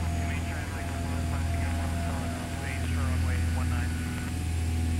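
Twin Comanche light twin-engine aircraft droning in the cockpit during descent with flaps coming in, a loud steady hum with constant engine tones throughout while people talk over it.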